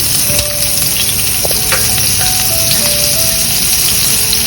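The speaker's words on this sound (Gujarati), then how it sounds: "પછી તેમાં 1/3 કપ ઝીણા કાપેલા કાંદા નાખીશું।" Chopped onions sizzle in hot oil with a cumin and asafoetida tempering, a loud, continuous crackling fry with occasional light stirring taps and no talk.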